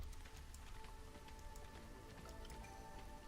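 Drizzle-season rain in Against the Storm, a steady patter of raindrops on surfaces with scattered drips over a faint tonal game soundtrack.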